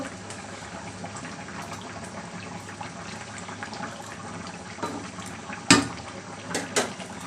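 Fish curry with aubergine and potato bubbling in a pot, a close, continuous simmer with a few sharp clinks of utensils near the end.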